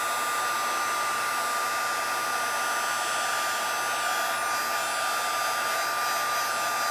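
A heat gun blows a steady, loud, unbroken whirring hiss close by while embossing powder is melted on a stamped daisy, with no pauses and no voices.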